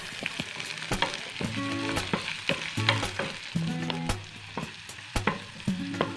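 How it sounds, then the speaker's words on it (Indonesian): Onions sauté in a pan after garlic, sizzling and crackling steadily up close while a utensil scrapes and clacks against the pan in a repeated stirring rhythm. "Nah, ini kita tumis bawang bombaynya sampai layu juga ya."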